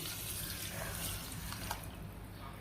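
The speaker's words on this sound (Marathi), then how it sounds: "याच डब्याने पाणी पण घेणार आहे। जेवढी साखर तेवढंच पाणी।" Water poured from a container into a pan on the stove for sugar syrup for gulab jamun, a steady splashing trickle close by that runs on without a break.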